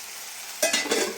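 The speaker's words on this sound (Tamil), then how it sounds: "இப்போ உப்பு போட்டாச்சு கொஞ்சம் வதங்கட்டும்" Salted tomatoes sautéing in a pan for a plantain stem kootu, a brief stir and soft sizzle rising suddenly after a quiet moment, close and fairly loud, without voices.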